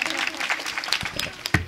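Brief burst of audience applause during a women's kirtan gathering, dense clapping mixed with crowd noise and some voices, fairly close.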